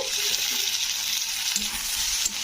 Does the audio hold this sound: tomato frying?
yes